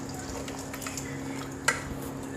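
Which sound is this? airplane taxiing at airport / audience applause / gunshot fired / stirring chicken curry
stirring chicken curry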